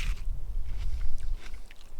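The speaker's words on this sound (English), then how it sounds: "it's making crunching sounds like he's eating a Dorito" Crunchy chewing of a sandwich in a film, with several close, uneven crunches and bites spread across two seconds.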